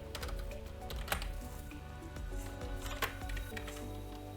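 Rapid typing on a computer keyboard while entering code, a dense run of close, crisp key clicks with a few heavier strokes, steady throughout with no voices.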